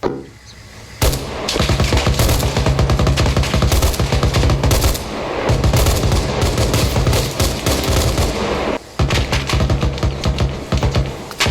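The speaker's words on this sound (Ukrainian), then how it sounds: "Хто стріляє тут, блін?" Rapid, loud bursts of automatic gunfire in the game Arma Reforger rattle almost continuously, with only brief pauses, close and intense.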